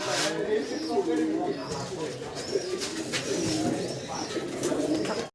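Large Gopalganj pigeons coo repeatedly in a steady rolling rhythm, close and clear, while a person talks over them.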